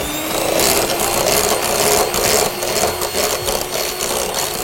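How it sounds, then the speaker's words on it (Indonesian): An electric mixer beats mocha nougat roll cake batter in a bowl, giving a loud, steady whirring buzz with a rhythmic churning texture that runs close and continuous throughout. "Lalu kita mixer lagi."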